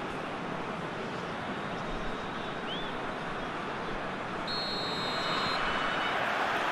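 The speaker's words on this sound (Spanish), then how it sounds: "Pitido inicial y el partido está en marcha." A short, high referee kickoff whistle blast sounds over the steady roar of a stadium crowd in PES 2022, at a Boavista vs Vizela match.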